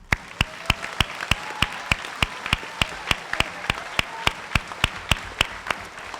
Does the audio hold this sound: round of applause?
yes